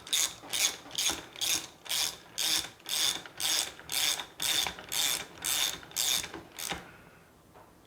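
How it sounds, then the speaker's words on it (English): A hand ratchet tightens a lug nut on an Endeavor S or Endeavor Pro machine during a belt change, giving about a dozen rhythmic, evenly spaced clicking strokes, close and crisp, before stopping. "Then we just put the lug nut on."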